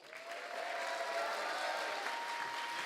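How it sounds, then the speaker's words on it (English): Steady, dense audience applause at an opening ceremony of a convention event, loud and sustained for the full few seconds with no talking over it. "Big round of applause."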